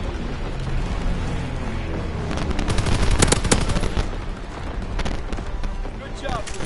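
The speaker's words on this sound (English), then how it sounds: "Incoming enemy artillery." Incoming enemy artillery in a video game brings continuous heavy gunfire and booming blasts, a dense loud barrage peaking midway, with a voice in the mix.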